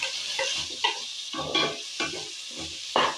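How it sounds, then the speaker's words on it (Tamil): Tomatoes frying with ginger and garlic for mushroom biryani, stirred in several distinct scraping strokes over a steady close sizzle, with no voices. "வதக்கிட்டு இப்போ இது கூட நாம் தக்காளி சேர்த்துக்கலாம்."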